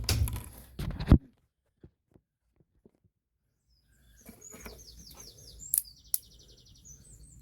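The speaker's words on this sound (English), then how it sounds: "That's a nice bird. That's a pretty cool bird." A bird chirps outdoors, a series of quick high tweets and trills after a few isolated knocks and a stretch of near silence, fairly faint with some background rustle.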